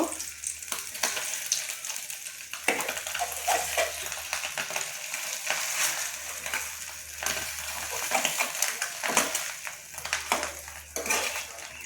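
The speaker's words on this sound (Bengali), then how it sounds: "আমি এইভাবে ডিমটাকে পিস পিস করে কেটে নেব।" A fried egg being cut into pieces in a pan for homemade egg chops, with spatula scrapes and knocks against the pan over a steady, close sizzle of frying.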